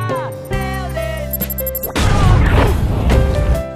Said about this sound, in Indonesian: Bom itu meledak dan menyebabkan Sonic pingsan.